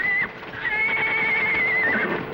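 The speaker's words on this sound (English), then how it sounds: "Sounds like the horses are loose." Horses whinny loudly and repeatedly, their high, wavering neighs carrying over a steady background noise, with faint hoof clatter beneath.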